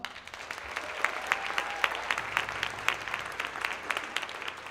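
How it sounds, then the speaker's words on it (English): Audience applause for the 2025 Strongsville Middle School Summer Band at a concert, a moderate steady clapping with a faint tone briefly sounding beneath it. "Give them one more round of applause"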